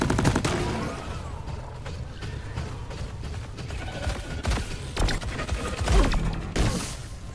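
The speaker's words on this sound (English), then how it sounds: "And then it will fire that amount of bullets at the enemies that you specified" The Fusillade weapon in Deep Rock Galactic fires a stream of bullets at enemies, with rapid overlapping gunshots and mechanical clatter in dense bursts that keep going, loud and close, with no talking.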